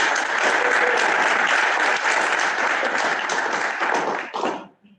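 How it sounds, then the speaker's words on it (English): A crowd applauds steadily for several seconds, dense and even clapping that trails off quickly at the end. "Let's give everyone a round of applause."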